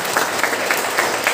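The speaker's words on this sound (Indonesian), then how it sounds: "Tepuk tangan." A crowd claps at a creative outreach session on army recruitment for santri at an Islamic senior high school, a dense, loud wash of applause throughout the short stretch.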